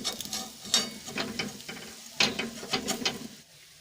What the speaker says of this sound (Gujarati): હવે આપણે હાંડવાને બીજી સાઈડ ફેરવી દઈશું